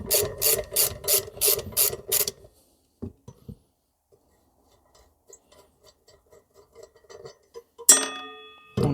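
Ratchet loosening bolts on an MBK X-Limit enduro motorcycle during a chain kit change, a rapid burst of about seven loud clicking strokes, then quiet with faint metallic handling and a sharp clank near the end.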